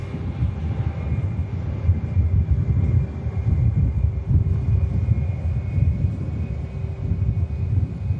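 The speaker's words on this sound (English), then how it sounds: "Mega departure from the Saudia." Saudia airliner taking off at Manchester Airport: a loud, continuous low jet-engine roar and rumble with wind buffeting, sustained at steady strength throughout, without talk.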